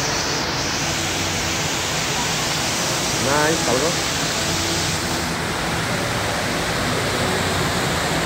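A sound machine's waterfall setting plays a steady rushing hiss like falling water, continuous, even and unbroken, with a brief spoken word partway through.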